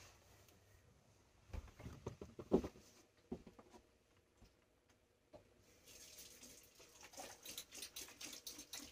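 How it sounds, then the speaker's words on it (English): Hands being washed under a running tap at a sink during a sea glass votive craft: quiet, intermittent splashing and water flow that picks up in patches, with no talking. "I have to wash my hands."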